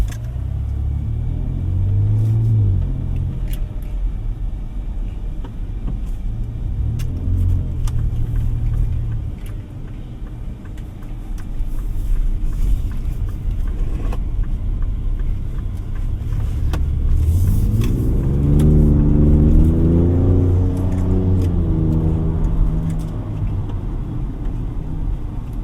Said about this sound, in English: So you have your Baja exhaust quiet, so it's much more quieter now.